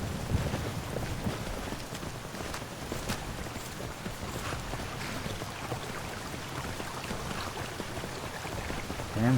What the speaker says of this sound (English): Damn, if it isn't raining again.